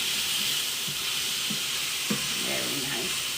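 Mushrooms sizzling in a hot pan as they are stirred, a steady close hiss of frying with soft scraping strokes and light clatter throughout.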